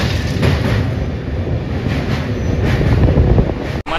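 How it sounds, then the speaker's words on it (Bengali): The Digha Tamralipta Express rolls past close by with a steady, loud roar of wheels and wagons, continuous throughout and without speech. "এই ট্রেনটা যেটা দেখছো এটা হচ্ছে দীঘা তাম্রলিপ্ত এক্সপ্রেস।"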